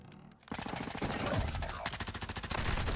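Rapid automatic gunfire in the video game Modern Warfare 3, a loud, dense stream of fast evenly spaced shots in bursts after a brief quiet start.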